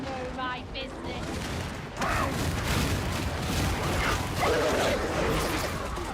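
Enemy gunners firing in Darktide, rapid sustained gunfire and mechanical clatter under loud excited talk, intensifying after the first two seconds with heavy continuous bursts.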